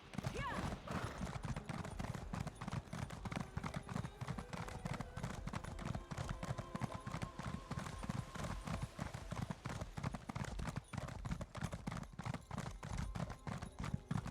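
Galloping horse hooves while riding through Northern Elsweyr in The Elder Scrolls Online, a dense steady clip-clop running throughout under game ambience and some talk.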